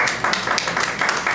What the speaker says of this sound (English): Please don't clap.